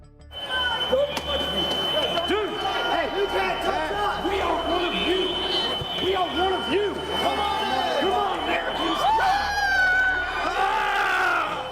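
Mob of rioters pushing through the Capitol doors, a dense roar of crowd voices with shouts and whoops rising above, loud and sustained.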